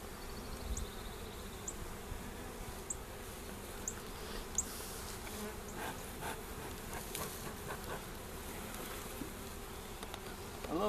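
Honeybees buzz steadily throughout a February inspection of a hive that had swarmed, a dense close hum with no talking.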